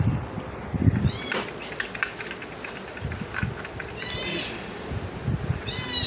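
Kittens meow several times in short, rising calls, mid-distance, over a background of shuffling, rustling and light tapping noises, with no talking.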